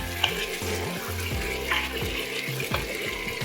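Butternut squash is stirred in a soup pot, giving soft scraping and wet sloshing strokes in an uneven rhythm, close and fairly quiet.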